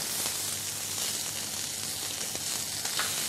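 Sliced capsicum, onion and carrots sizzle steadily in a very hot pan as they are stirred fast, a continuous close hiss with faint scraping accents throughout and no talking.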